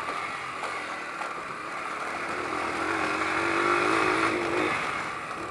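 A Yamaha Enticer motorcycle engine runs steadily up close, its rough drone swelling slightly as the revs climb mid-way and then easing back, with no one talking.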